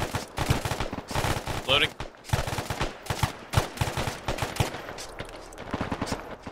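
Rapid automatic gunfire in a tactical military shooter game, loud dense bursts of shots close by with brief gaps, under occasional radio-style talk.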